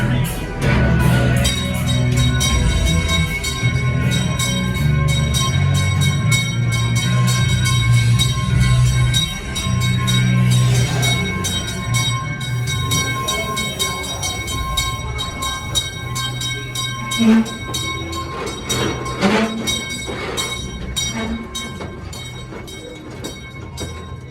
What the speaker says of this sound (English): please remain seated until the train has come to a full and complete stop